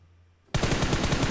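Automatic gunfire in a battle royale shooter set around Yasnaya city, a loud rapid burst that erupts suddenly after a half-second of quiet and keeps hammering to the end.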